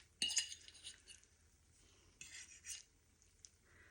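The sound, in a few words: knife cutting an egg omelette on a plate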